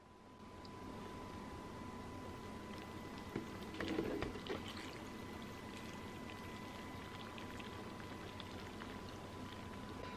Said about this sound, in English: So I'm gonna pour the milk.